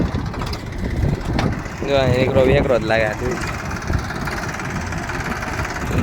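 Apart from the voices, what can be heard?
Mahindra tractor engine running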